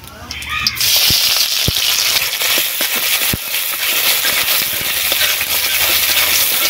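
Chopped onion drops into hot mustard oil with cumin seeds in a wok, setting off a loud, steady crackling fry with scattered sharp pops and clinks throughout.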